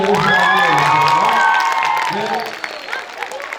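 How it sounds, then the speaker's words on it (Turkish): A crowd at a school quiz competition semi-final loudly applauds and cheers the finalists, with high shouts and whoops over dense clapping that gradually thins out toward the end. "Alkışlarımız onlara gelsin"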